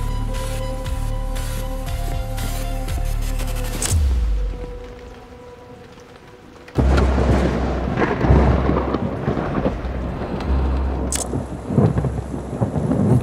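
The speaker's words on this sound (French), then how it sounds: "Je crois qu'il y a un énorme orage qui se prépare." A large thunderstorm with loud, close thunder rolls and steady rain, heard outdoors at night; deep rumbling crashes build and fade while rain hisses continuously throughout.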